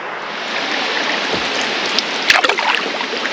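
Continuous broad rushing of a waterfall falling into Ten Mile Lake in Algoma, steady and moderately loud, with a few small splashes or knocks near the end.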